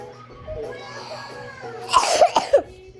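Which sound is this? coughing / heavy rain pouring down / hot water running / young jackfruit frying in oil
coughing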